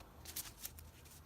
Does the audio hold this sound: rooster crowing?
no